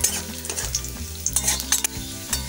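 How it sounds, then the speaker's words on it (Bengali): Cashews and raisins fry in a pan over a lowered gas flame, a soft close sizzle with scraping stirs and a few sharp clinks, no voices. "কাজু কিশমিশটা আমি একটুখানি ভেজে নেব"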